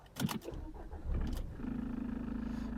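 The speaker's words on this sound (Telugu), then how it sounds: "సింగిల్ సెల్ఫ్ అయితే వెహికల్ అయితే స్టార్ట్ అయిపోతుంది" A 2016 Nissan Terrano XE diesel cranks briefly with a few clattering bursts, then catches and settles into a steady, close idle hum.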